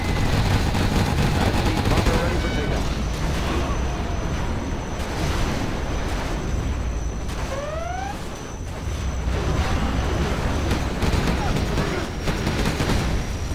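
Loud, continuous rapid gunfire from a gatling cannon in Command & Conquer: Generals Zero Hour, with booming bursts and whooshing streaks, dense game-style combat noise filling the whole stretch without pause.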